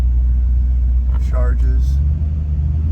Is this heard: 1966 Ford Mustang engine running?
yes